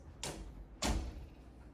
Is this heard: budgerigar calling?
no